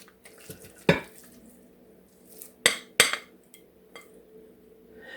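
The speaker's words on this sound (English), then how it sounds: "we're going to transfer it to our baking dish" Hot artichoke dip being spooned from a mixing bowl into a baking dish, with several sharp clinks and scrapes of utensil on dishware spaced irregularly over quieter soft handling noise.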